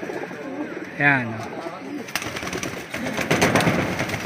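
Racing pigeons in a backyard loft coo in a short burst, close by under someone talking, with rustling and a clatter afterward.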